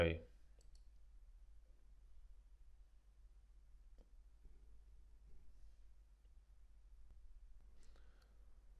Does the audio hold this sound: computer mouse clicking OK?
yes